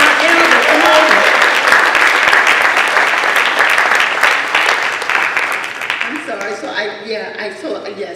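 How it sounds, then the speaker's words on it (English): A crowd claps loudly and steadily for several seconds, then the applause fades as a voice begins speaking. "Let's give her another round of applause."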